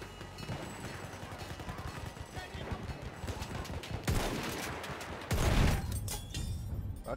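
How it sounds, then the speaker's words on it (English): Battlefield 1 gunfire crackles through the whole stretch as dense bursts of rifle and machine-gun shots, with heavier booming volleys near the end. "Yeah, there's some gunfire coming from there"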